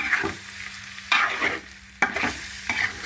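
Ginger garlic paste and pieces stirred into hot oil, bursts of sizzling frying with scraping stir strokes at roughly one-second intervals, close and fairly loud.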